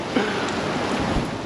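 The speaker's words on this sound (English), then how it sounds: "The wind is right now just ridiculous." Strong winter storm wind outdoors beside a camper van, a loud, continuous rushing roar with small gusty swells and no voices over it.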